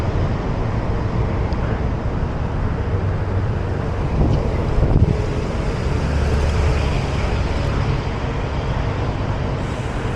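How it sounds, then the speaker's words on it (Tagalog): Wind rushes steadily over the microphone during a bicycle ride to work, a constant broadband roar with faint traffic rumble beneath. "Medyo malamig pang simoy ng hangin."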